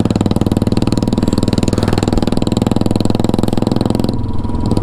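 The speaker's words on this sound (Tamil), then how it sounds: "சைலன்சர் கட்டாகி விழுந்து போச்சு. கட்டாகி தட போயிட்டுருக்குது சவுண்டு." Motorcycle engine running with its silencer broken off, giving a loud, raw, rapid exhaust throb that holds steady on a road ride before briefly dropping in intensity near the end.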